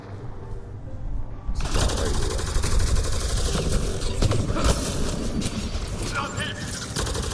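Video game gunfire from Mass Effect Andromeda kicks in after a quieter opening and then runs as a dense, continuous stream of shots and clatter.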